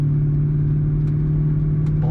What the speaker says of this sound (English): This is a 5-speed manual with a nice mean sound to the exhaust.